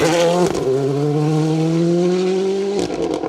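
A Ford Fiesta Rally 2 rally car on a stage, its engine roaring loud and close at high revs, holding a steady rising pitch before a quick gear change and renewed acceleration near the end.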